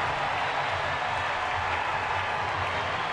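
Spectators at a Major League ballpark applaud and cheer after a Giants hit, a dense steady wash of clapping and crowd noise with no clear break.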